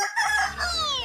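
A rooster crows once, loud and close, in a single sustained cock-a-doodle-doo that serves as the opening sting of a Mirchi Murga FM radio jingle, with no speech over it.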